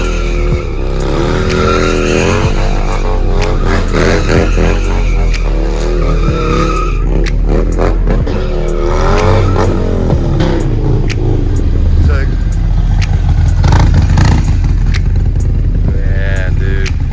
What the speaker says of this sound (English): would you mind filming me do some burnouts right here?